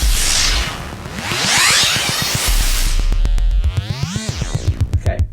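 Wild modular synth tones from an EMS Synthi FM patch: a noisy whooshing sweep rises and falls, then gives way to buzzing pitch-bending tones and a rapid stuttering pulse, loud and alone.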